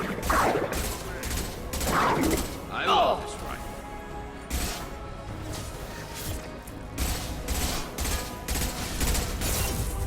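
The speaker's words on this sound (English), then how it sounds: "Firing a high-impact shot." A high-impact rifle shot in Mass Effect 2, heard as sharp gunfire cracks and impacts among combat noise, with spoken voices running over much of the clip.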